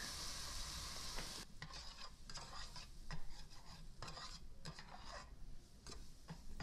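Flour being stirred into hot oil in a sizzling pan, a steady frying hiss overlaid with repeated scraping stirs of a utensil against the pan, close and continuous with no talking.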